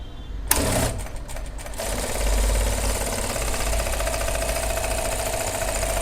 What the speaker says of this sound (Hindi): जब मशीन चालू होगी ना, थोड़ा सा आगे में जिग, थोड़ा सा 2 बार आगे पीछे होगा